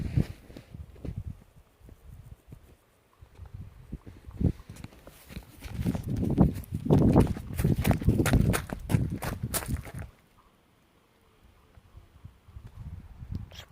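Horses walking outdoors, their hooves clip-clopping in an irregular, moderately close rhythm that builds in the middle and then fades, with faint rustling around them.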